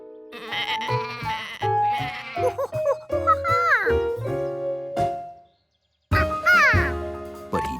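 A cartoon sheep bleats repeatedly in a wavering, cartoonish voice amid lively background music, with a short silent gap before more bleats return.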